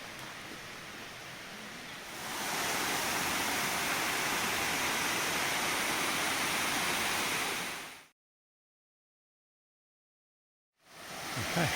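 Erawan Falls at level 4, water flowing into a pool in reduced flow: a steady, broad rushing hiss that grows louder after a couple of seconds, cuts to silence for a few seconds, then returns.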